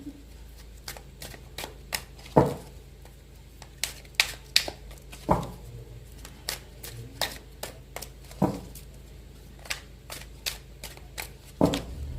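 A deck of cards shuffled repeatedly during a tarot-style card reading, giving sharp riffling bursts and soft flicks at a steady, close pace, with no speech over them.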